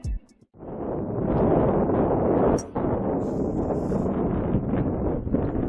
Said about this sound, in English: This tee shot on 7 gives you an idea just how windy it was in Grantville that day.